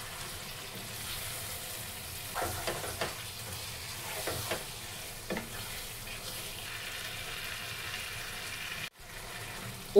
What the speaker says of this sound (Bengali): এরপরে ধুয়ে রাখা মাংস কষানো মশলায় দিয়ে ভালো করে নেড়েচেড়ে মিশিয়ে নেব।